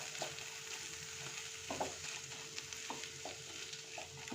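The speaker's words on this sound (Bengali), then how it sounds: "এইভাবে করে একটু আলুটাকে ঘিয়ের সাথে মিশিয়ে নিতে হবে।" Mashed potato stirred into ghee in a pan, with a soft continuous sizzle under repeated scraping strokes of a spoon at an irregular rhythm, close and fairly quiet.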